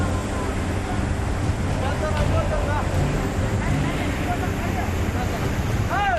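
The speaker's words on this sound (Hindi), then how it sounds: "डराता पानी का शोर" Floodwater roars at the Golpalli waterfall in Raichur, Karnataka, a loud, unbroken rushing wash with faint voices rising briefly above it.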